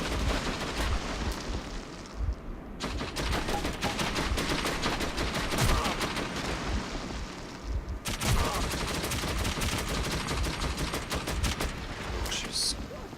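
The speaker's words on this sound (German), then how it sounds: "Schuss." Dense gunfire in the video game Metro 2033, with continuous rapid bursts of shots and a short lull, while a player talks over the action.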